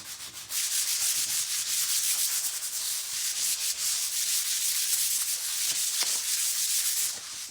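An electric sander working over a wood round, a steady close grinding hiss that runs almost without pause for several seconds before stopping abruptly.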